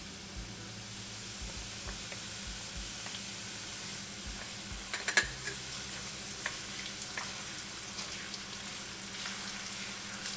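Green chili hits hot oil with garlic in a kadai, a steady close sizzle with a few sharp crackles and a brief stirring clatter midway; nobody speaks.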